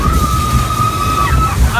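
Water splashes loudly onto the crowd at a SeaWorld show, a dense, continuous rushing slosh up close that fills the whole moment.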